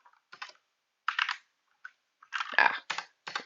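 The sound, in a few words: typing code on a computer keyboard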